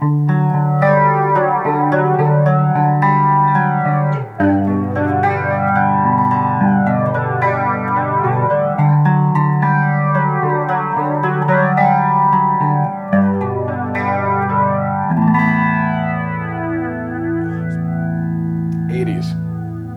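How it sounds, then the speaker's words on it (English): An electric guitar plays ringing chords and sustained notes through a Boss BF-3 flanger pedal, drenched in a sweeping, jet-like flanger swirl that rises and falls repeatedly. "the Flanger from Boss, the swirling, whirling BF3"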